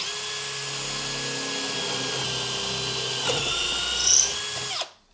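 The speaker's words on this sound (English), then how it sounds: "I'm just using a normal 10 millimeter drill bit to actually drill these holes." A power drill with a 10 millimeter bit whines steadily at high speed, boring through wood, then spins down and cuts off abruptly near the end.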